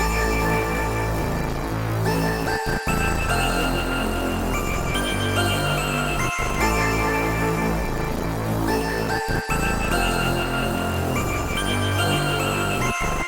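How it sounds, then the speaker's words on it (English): A loud, dense electronic rage beat: synth melody over a heavy bass synth, steady and continuous with brief drops in the low end. "So together with the bass synth now, it sounds like this."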